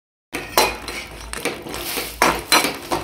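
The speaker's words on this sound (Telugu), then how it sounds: "జీడిపప్పు కిస్మిస్ 2 నిమిషాల పాటు మీడియం ఫ్లేమ్లో మంచి కలర్ వచ్చే వరకు దోరగా వేపుకోవాలి." Cashews and raisins frying on medium flame in cow ghee in a kadai, stirred with a metal spoon; sharp clinks and scrapes of utensil against the pan in irregular bursts, close and moderately loud.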